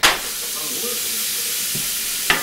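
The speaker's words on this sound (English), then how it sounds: "now we're going to break up the meat a little bit as it's frying" Ground meat for sloppy joes sizzles steadily in a hot pan, a constant hiss broken by a few scraping stirs at the start and end; nobody speaks.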